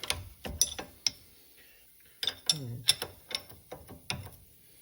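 A 15 mm ratchet wrench loosens a bolt at the rear wheel of a 2024 CFMOTO ZFORCE 950. Sharp, close pawl clicks come in two short irregular bursts separated by a brief pause.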